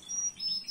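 Birds in an aviary chirp in short, faint high tweets that come and go over a quiet background, with no talk.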